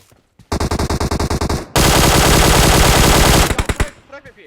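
Automatic QBZ rifle fire in the mobile battle royale game PUBG Mobile: a rapid burst of evenly spaced loud shots, a short pause, then a longer sustained volley ending in a few trailing rounds.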